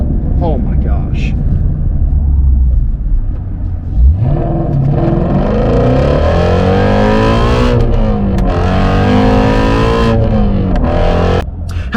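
A Shelby GT350 engine revs up and down through rising and falling sweeps, with a voice speaking over it and a few sharp exhaust pops.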